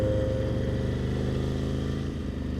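A 2020 Ducati Scrambler 1100 rolls at low speed into a parking lot, its steady engine rumble heard from the rider's position, loud and continuous with a slight drop near the end.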